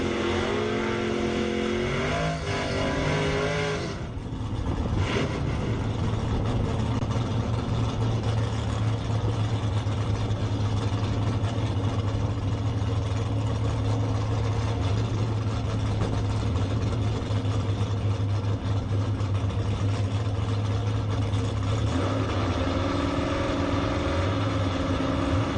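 Drag race cars launch and roar down the strip in the first round of a Gamblers Race at a Division 5 ET Finals, loud continuous engine noise with a sharp change around four seconds, then sustained howling drone.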